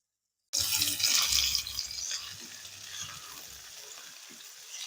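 Chopped onion, tomato and carrot fry in a pan, a sudden bright sizzle that starts loud and settles into a quieter, steady crackle with some stirring.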